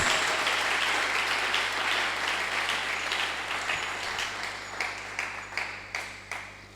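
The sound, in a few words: church congregation applauding and clapping for Jesus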